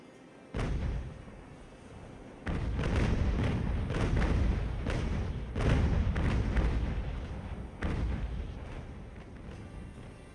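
Sailing ship cannons fire in Ultimate Admiral: Age of Sail, booming in a series of heavy, rumbling volleys that overlap into a continuous roar, loud and alone without talk.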